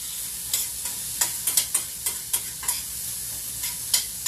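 Onions and peppers sizzle steadily in a pan while a utensil stirs them, giving a string of close, sharp scrapes and clicks over the constant frying hiss, with no talking.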